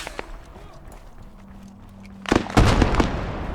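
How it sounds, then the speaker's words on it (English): A BMP armored vehicle fires its cannon in a war video game: a few quiet pops at first, then a loud run of booming bursts close together near the end, with a voice talking at low level. "It's always awesome to see when the BMP fires."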